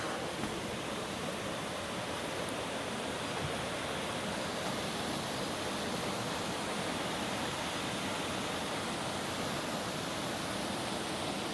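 Steady broadband rushing of flowing water, constant and unbroken, with no voices or other sounds on top.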